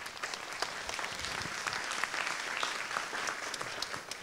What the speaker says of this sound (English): A warm applause for David Crosier.